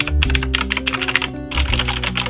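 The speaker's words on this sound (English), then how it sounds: "Oh, this feels great. I never had a mechanical keyboard before." Rapid typing on a Razer BlackWidow X Chroma mechanical keyboard, with crisp, closely miked key clicks in an uneven stream and a brief pause midway, and no talking.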